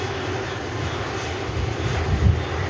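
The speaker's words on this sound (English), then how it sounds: "A330 of Virgin Atlantic." A Virgin Atlantic Airbus A330 taxis past at an airport, its engines giving a loud steady roar that swells slightly toward the end, with no voices.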